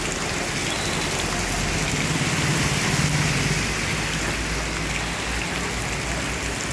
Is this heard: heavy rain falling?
yes